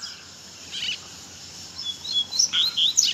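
A coleiro, the double-collared seedeater, sings close by in short, sharp, high chirps that grow quicker and louder toward the end, over faint background hiss.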